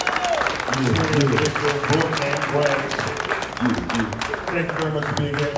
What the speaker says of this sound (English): How about another round of applause for them being here again today?